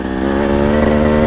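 A 2025 KTM 300 EXC two-stroke enduro motorcycle idling and revving, a loud, buzzy, steady engine drone close by with no talking.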